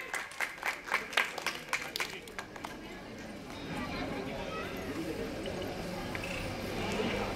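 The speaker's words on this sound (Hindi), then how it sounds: "तालियां" Audience at a staged Ramlila performance of the Lanka Dahan episode breaking into applause, a few sharp claps at first swelling into steady, moderately distant clapping and crowd noise.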